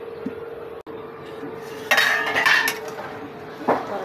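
A metal lid placed over a pot of curry with bori, giving clattering clanks of metal on metal over a low steady hum, the loudest burst in the middle and another shorter clink near the end.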